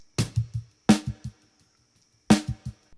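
Percussive hits with a thin, filtered tone and short rhythmic repeats trailing after each, like a snare echo with low thumps, heard three times at uneven spacing.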